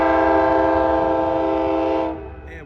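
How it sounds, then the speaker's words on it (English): An Amtrak California Zephyr passenger train sounds its loud, sustained multi-tone horn while going by Sutro Street in Reno, Nevada, over a rumbling rail background, then the horn cuts off. "This is the Amtrak California Zephyr number 6 on its way to Chicago."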